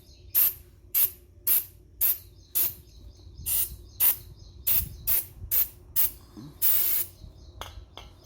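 Rust remover is sprayed onto a Daihatsu Move brake rotor at home in a steady series of about a dozen short, sharp hissing bursts from a trigger sprayer, close and evenly spaced, with one longer spray near the end.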